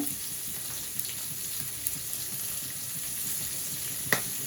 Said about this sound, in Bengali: পেঁয়াজ কুচি ভাজা হয়ে গেছে